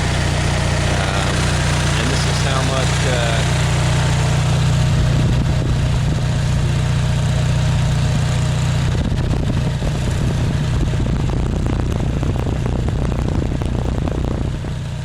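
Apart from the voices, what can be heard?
generator engine running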